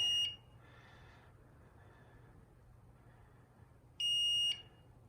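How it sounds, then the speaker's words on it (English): Battery backup in a storm-damaged church building beeping: two sharp, shrill electronic beeps about four seconds apart, the first brief and the second about half a second long, over a low steady hum. "the battery backup is beeping"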